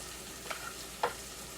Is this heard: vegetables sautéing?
yes